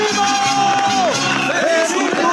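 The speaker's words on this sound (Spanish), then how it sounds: "¡Vaya los aplausos!" A crowd at a birthday serenade for Elizabeth cheers and whoops loudly up close, with overlapping shouts and rising and falling yells rather than distinct clapping.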